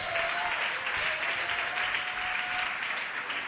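Congregation in a church applauding steadily, a dense continuous wash of clapping that holds at an even level throughout, with a faint voice or tone lingering underneath.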